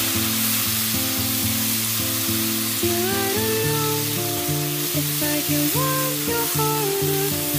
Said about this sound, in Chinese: 放入一些红椒粒，接着翻炒几下。